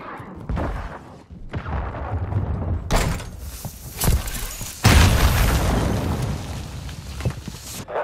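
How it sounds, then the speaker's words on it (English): A cruise missile strike in Modern Warfare 2 lands as heavy booming blasts, with a loud rumbling impact and sustained roaring debris noise, several bursts over a few seconds. "Friendly cruise missile approaching target."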